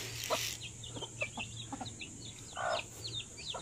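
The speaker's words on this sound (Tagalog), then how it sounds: "dumating na nga tong manok na to, yung inahin na matapang" An aggressive mother hen clucks in a series of short, sharp bursts, close by, with no one talking over it.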